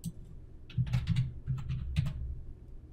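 Computer keyboard typing at a desk, a quick cluster of clicky keystrokes in a couple of short bursts, close and fairly faint, with no voices.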